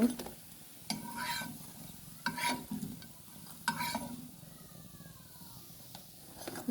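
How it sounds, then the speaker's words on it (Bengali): Onion fritters (peyaju) fry quietly in oil, a soft sizzle under sharp, intermittent clinks and scrapes of a utensil turning and lifting them from the pan. "এই যে লাল লাল করে আমরা ভেজে নিচ্ছি"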